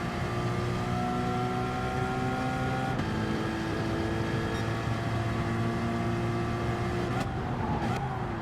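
A race car engine in a racing video game howls steadily at high revs through fast laps, loud and continuous with shifting tones and a gear change partway through.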